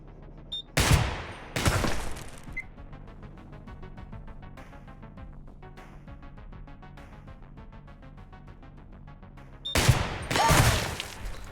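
Two pairs of sharp, loud gunshots from the shooter game Receiver 2, one pair near the start and one near the end, separated by a quieter stretch of steady humming tones.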